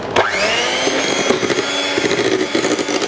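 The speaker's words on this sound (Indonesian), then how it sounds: "Saya mixer kembali." Electric mixer beating green-tinted sponge roll cake batter, a steady loud whirring hum that runs unbroken throughout with slight wobbles as the beaters move through the bowl.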